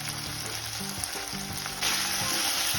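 Diced potato sautés in a pan for a green pea and potato bhaji, a steady close sizzle that grows louder and brighter partway through, with a faint low hum underneath.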